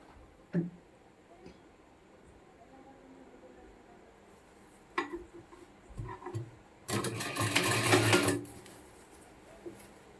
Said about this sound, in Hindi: आपको सिलाई लगा देना है एक पैर की। ठीक है, तो मैं फटाफट से लगा कर दिखाता हूँ